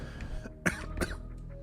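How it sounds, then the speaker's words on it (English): A couple of short, dry coughs close by, one sharp and one softer, with no talking around them. "I don't know why I've still got this fucking cough"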